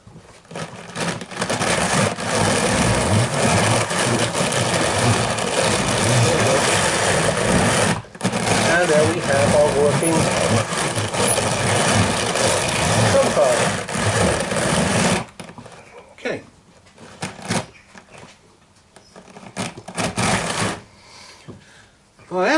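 A homemade drum carder runs with its two wheels turning against each other, giving a steady whirring, clattering mechanical drone for about fifteen seconds before stopping, followed by scattered handling noises and quiet talk.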